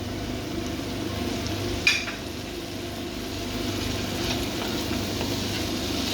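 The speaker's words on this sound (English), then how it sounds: "now it's time to add the 1 chopped up tomato" Chopped tomato goes into a pan of sizzling garlic and ginger for a Goan king prawn curry: a soft, even frying hiss with a single sharp utensil clink near the start, no voices.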